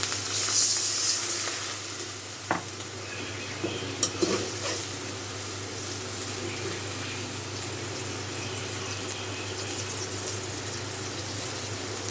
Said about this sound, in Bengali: রসুনটা ভাজা ভাজা হয়ে গেছে, এখন একটু পানি দিয়ে মশলা দিয়ে দিব।